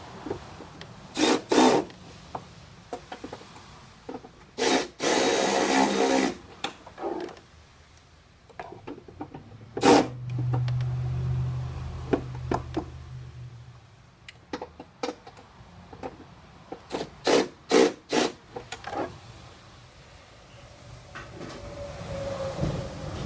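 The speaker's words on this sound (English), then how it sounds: "10-mil, tighten up those two nuts down the bottom." A wrench works the two lower 10 mm nuts during an Airaid intake install on a Colorado ZR2, giving quiet bursts of ratcheting clicks with pauses and a few louder knocks between them.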